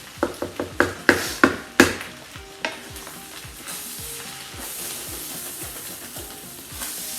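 Chicken fried rice with vegetables sizzling and frying in a pan, opening with a quick run of sharp stirring and scraping knocks from a utensil, then a steady close hiss of frying with occasional softer stirs.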